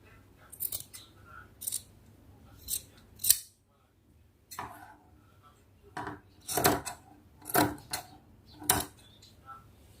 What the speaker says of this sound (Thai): ถ้าเยอะเราก็ตัดเล็มออกหน่อยหนึ่งนะคะ